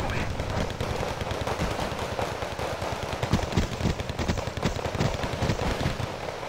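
Machine gun fire in the strategy game Wargame: Red Dragon, dense rapid bursts of shots crackling continuously over a battle din, loud and close throughout.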